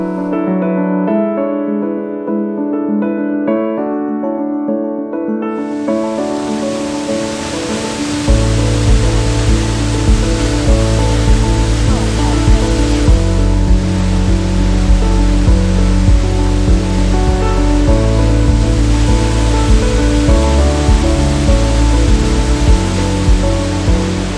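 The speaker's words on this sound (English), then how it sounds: "Waterfall was spectacular, thunderous, and we no doubt owe that to the rain." A thunderous waterfall swollen by rain roars as a dense, loud, steady torrent that swells in and stays continuous, with a sustained musical tone running through it.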